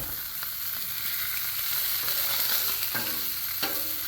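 Sausage frying in its own fat on a Blackstone griddle, a steady, close sizzle and crackle with a few small pops and scrapes, no voices.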